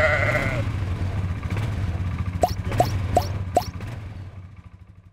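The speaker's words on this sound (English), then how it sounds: "we have got sheep in here" Sheep, ewes and lambs penned for vaccination, with a short bleat at the start followed by four evenly spaced sharp knocks or plops over a steady low rumble, the sound fading toward the end.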